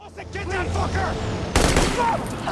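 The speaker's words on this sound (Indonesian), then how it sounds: "Dan sekejap kemudian, Olson ditembak." Gunshots in a film: a loud volley of shots bursts out suddenly after a brief stretch of muffled dialogue and background sound, ringing sharply and close.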